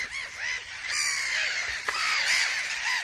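Gulls crying over a ground-nesting colony on an island in the Puszta salt flats, harsh repeated calls from several birds overlapping continuously and fairly loud, mobbing a badger.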